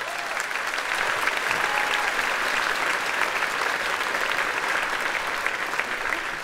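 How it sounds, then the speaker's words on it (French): Steady audience applause at a live comedy show, dense and continuous clapping from a large crowd throughout with no breaks. "Ouais, vous pouvez les applaudir."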